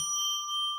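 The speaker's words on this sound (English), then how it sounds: "why don't we go ring a bell 3 times to declare sacred space" A single bell struck once to open a live psychic radio broadcast, a clear bright ring that sustains evenly and close without fading within the short span, no voices over it.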